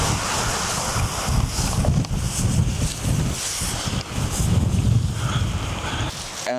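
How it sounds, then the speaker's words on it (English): Strong, gusty wind roars across an open bog, buffeting the microphone with a continuous low rumble that swells and eases in waves, with no talk over it. "it is a little bit uncomfortable making food here with this insane wind"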